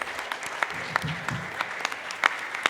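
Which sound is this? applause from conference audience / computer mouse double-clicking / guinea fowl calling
applause from conference audience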